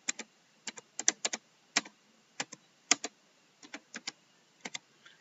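Keys tapped on a computer keyboard while entering a library card number, producing light, irregular clicks in small clusters, quiet and close with no talking.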